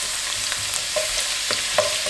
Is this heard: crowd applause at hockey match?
no